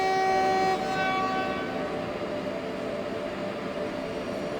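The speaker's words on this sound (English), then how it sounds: "you wave at a train and it toots back at you." Train horn in the Train Simulator video game, a loud sustained chord sounding at the start and cutting off after under a second, then a steady rumbling train running on alone.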